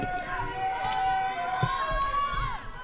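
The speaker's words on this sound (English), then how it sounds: "I hear the crowds erupting already." Crowd noise at a secondary schools canoe polo championship in New Zealand, a steady wash of cheering, shouting and chatter from spectators, fairly loud and continuous, with a voice talking over it.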